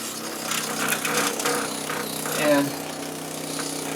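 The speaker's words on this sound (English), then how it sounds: "we just go ahead and pressure washer will clean those" A pressure washer sprays the vanes of an AC evaporator, a rough, steady spray noise close by that swells and fades slightly as the nozzle moves, with a brief spoken word near the start.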